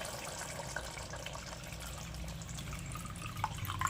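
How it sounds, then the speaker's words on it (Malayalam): Second coconut milk from half a coconut, about one and a half cups, pours into a Kerala-style prawn curry in a steady, soft liquid stream with faint splashes, close by and continuous, no voices. "നമുക്ക് 2ാം പാൽ ഇതിലേക്ക് ഒഴിച്ചു കൊടുക്കാം."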